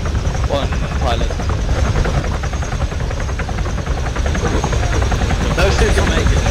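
A helicopter in a military shooter game gives off a steady, heavy rotor drone and low engine rumble throughout, with occasional sharp gunfire cracks and players talking over the radio.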